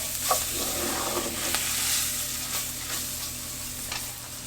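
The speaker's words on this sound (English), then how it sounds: "Give that a good stir. This is going to make it nice and thick." Spinach artichoke dip sauce thickened with flour is stirred in a pan, a steady soft scraping and faint sizzle with a few light utensil taps, close and continuous with no talking.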